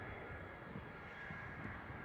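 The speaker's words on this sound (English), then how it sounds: "Next one up is an A320." Airbus A320 jet at Amsterdam Schiphol, a steady, moderately distant engine roar with a faint high whine running through it, even and unbroken.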